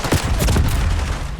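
Dense, loud Call of Duty gunfire from allied soldiers, a rapid overlapping fusillade of shots with deep booming bursts, close and continuous through the whole moment.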